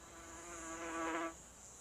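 A wasp buzzes near an orchid, a short, faint whining hum that swells and then stops abruptly, with no other sounds around it.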